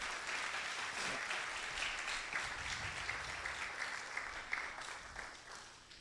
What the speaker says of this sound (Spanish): démosle un aplauso, sí